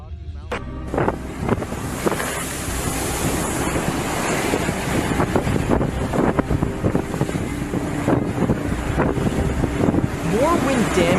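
Strong tornado wind roars and buffets the microphone, loud and steady throughout, with rushing, surf-like noise and scattered rattles of debris.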